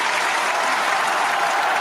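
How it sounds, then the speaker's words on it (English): Standing ovation for a performer at a music mixshow, dense loud applause from a crowd, continuous even clapping with no breaks for the whole stretch. "Hey, man, round of applause for you, man."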